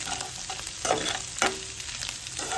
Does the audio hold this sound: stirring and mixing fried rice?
yes